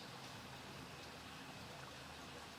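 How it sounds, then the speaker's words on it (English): Soft, steady trickling water flows continuously from lake outlets, faint and unbroken, like a small stream running outdoors. "You can probably hear the water coming out of the outlets. You can hear it trickling away."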